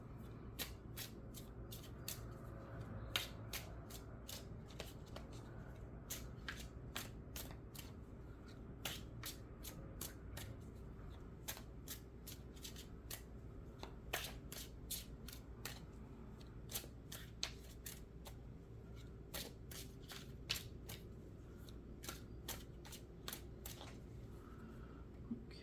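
Tarot cards shuffled continuously by hand during a pick-a-pile reading, giving a steady run of crisp riffling clicks and snaps at close range over a faint low background hum, with no talking.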